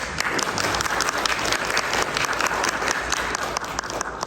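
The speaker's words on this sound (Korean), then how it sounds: "우리 잠깐 박수로 환영하겠습니다" A church congregation applauds together in welcome during a Sunday worship service, a steady, dense wash of clapping from many hands that fills the whole stretch evenly.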